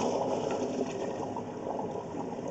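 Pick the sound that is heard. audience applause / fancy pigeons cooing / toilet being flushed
toilet being flushed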